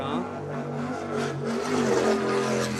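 Racing powerboats in a Mod V class race roar past, a loud sustained engine drone with steady harmonic tones that swell slightly toward the end, heard with a commentator's voice over it.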